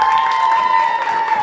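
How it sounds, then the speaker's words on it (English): A nice round of applause for Jeremy at his bar mitzvah celebration at Club White Space, steady clapping and crowd noise filling the room throughout, loud and close. "Let's have a nice round of applause for Jeremy."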